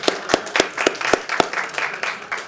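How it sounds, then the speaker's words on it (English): An audience at a board meeting gives a brief round of applause, sparse, evenly spaced claps from a small group nearby, fading slightly toward the end. "One more round of applause for Amir and the Oxford Mill folks"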